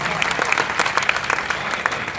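Audience applause at a poetry gathering (kavi sammelan) in Katihar, Bihar: a dense, steady burst of many hands clapping, loud and close, with crisp individual claps standing out and no voices above it.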